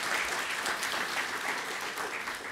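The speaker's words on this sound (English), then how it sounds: "if we could have one more round of applause from the students thanking the industry partners" A room of students applauds industry partners at a future mobility transportation and technology event, with steady, dense clapping throughout.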